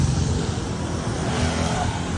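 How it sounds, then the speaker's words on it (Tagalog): A car passes on a road in Burnham Park, Baguio, its engine a steady, fairly loud broadband rumble that holds throughout with no talk over it. "Ah, may sasakyan."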